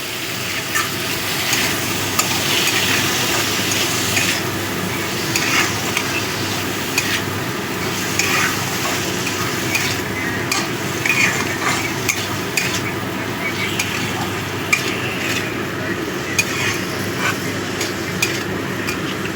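Chopped tomatoes are stirred into eggplant mash frying in a pan, giving a steady, loud sizzle with repeated scraping and clinking of a utensil against the pan throughout.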